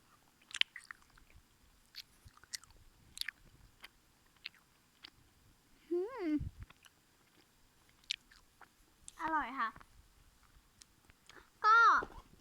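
Close, quiet chewing of an orange-flavoured vitamin C gummy, with scattered soft clicks and wet mouth sounds between brief vocal murmurs and hums of enjoyment.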